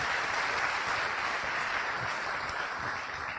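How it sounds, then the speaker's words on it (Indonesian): Steady applause fills the room at an Indonesian talk or gathering, a dense continuous clatter of many hands at even loudness throughout with no voices over it. "Kita beri aplaus dulu."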